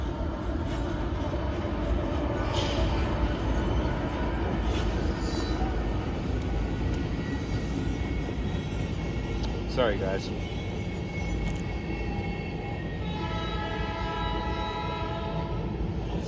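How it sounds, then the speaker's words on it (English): A train rumbles past nearby in a steady, continuous roar lasting the whole stretch, with brief squeals or horn-like tones rising over it, while someone talks briefly. "Sorry, train's going by."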